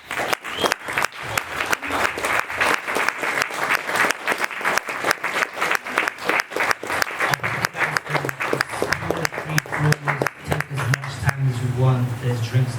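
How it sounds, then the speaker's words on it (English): Event crowd at an indoor gathering applauding in rhythmic unison claps that build to a steady beat, with cheering and voices rising near the end. "round of applause for the guys."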